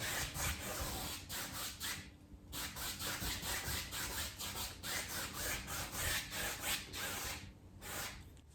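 White oil paint rubbed onto a black canvas, giving a steady dry scratchy rubbing with repeated short strokes, close and fairly loud, with brief pauses between passes.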